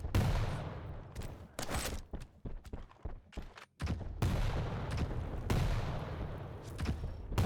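Rapid rocket launcher blasts and nail gun fire in a Quake Pro League deathmatch, loud dense bursts of shots and thuds repeating in clusters with short gaps, no voices.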